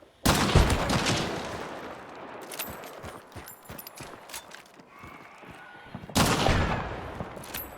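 Loud, close gunfire erupts in the Hunt: Showdown video game, an opening burst followed by scattered sharp shots and a second heavy volley near the end, with no speech over it.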